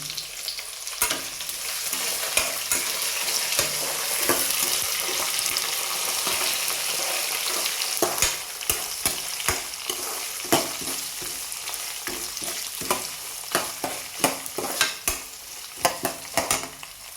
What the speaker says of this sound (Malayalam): നമുക്കിതൊന്ന് ഇളക്കണം. അതിനകത്ത് നമുക്ക് കുറച്ച് കരിയാപ്പല അങ്ങോട്ട് ഇട്ട് കൊടുക്കാം, തേങ്ങയുടെ കൂട്ടത്തിൽ.